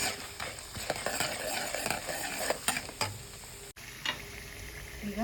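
Chana dal and urad dal frying in hot oil while being stirred with a spoon, a steady close sizzle broken by scraping clicks, with one brief dropout near the end and no talk.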